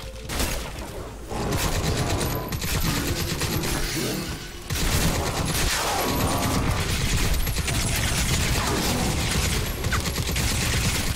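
Sustained automatic gunfire in Crysis 3, dense rapid bursts that run almost without pause, loud and close, with a short break and then more relentless shooting mixed with crashing impacts.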